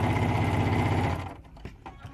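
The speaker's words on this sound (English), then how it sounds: "we're just going to sew right on the drawn line" A sewing machine stitches fabric along a drawn line, a close rapid mechanical whir for about a second before slowing and stopping, leaving faint handling clicks.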